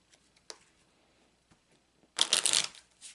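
A deck of Lenormand cards is handled with a few soft taps and clicks, then riffled in one quick burst of crisp fluttering shuffle, close and quiet with no talking.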